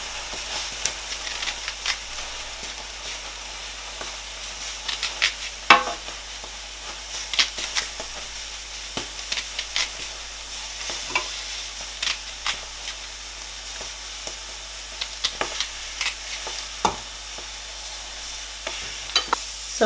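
Onions stirred into browning meat for Nigerian egusi soup with spinach, giving a steady sizzle and hiss with scraping stirs and spoon knocks against the pot, fairly close and continuous with no talking.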